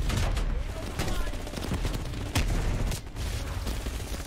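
M16 rifle gunfire and combat noise in the video game Call of Duty Cold War, dense and loud with repeated shots and a heavier blast midway over a constant battle din.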